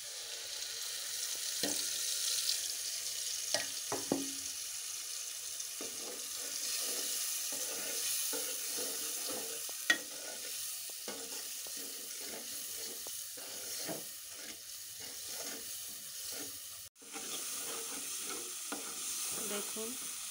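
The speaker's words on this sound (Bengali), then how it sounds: "মশলাগুলো কষে গেল" Spices with onion, cinnamon and cardamom fry in a pan, a quiet continuous sizzle broken by repeated scraping stirs, with no talking.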